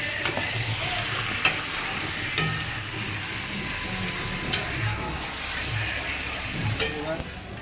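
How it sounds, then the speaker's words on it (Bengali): Meat stirred in a hot frying pan with lightly salted oil: steady loud sizzling under repeated sharp scrapes and clacks of a spoon against the pan, close up. "মাংস দেওয়া হয়ে গেছে, একটু নাড়াচাড়া করে নিলাম।"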